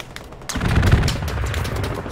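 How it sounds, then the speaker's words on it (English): Aircraft strafing-run gunfire in the World War II shooter Hell Let Loose, set in the Hurtgen forest, hits as a sudden burst of rapid booming shots that roll into a rumbling tail, close and loud with no talk. "Strafing run just shot at me too, man."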